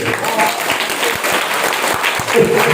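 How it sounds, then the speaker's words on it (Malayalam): An audience at an anniversary motivational class clapping hard and fast in dense, continuous applause that stays loud throughout and swells slightly near the end. "നല്ല സ്ട്രോങ് ഒരു കയ്യടി"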